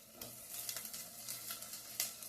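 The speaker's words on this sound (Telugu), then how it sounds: "ఈ ఉల్లిపాయలు అయితే చక్కగా వేగుతా ఉన్నాయి." Onions and drumstick pods fry in a pan for a drumstick, dried fish and tomato curry, giving a steady soft sizzle with small crackling pops throughout, fairly quiet and close.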